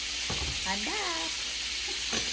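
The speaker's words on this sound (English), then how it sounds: "So you listen to that baby sizzle over there." Bacon sizzles in a skillet, a constant close frying hiss with a brief clatter and a short voice-like sound partway through.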